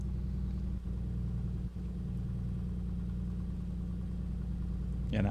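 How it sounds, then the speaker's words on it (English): Piper Comanche engine running rough in Microsoft Flight Simulator, a steady low rumbling drone with a couple of brief dips, continuous and close. "Right, the engine doesn't sound healthy."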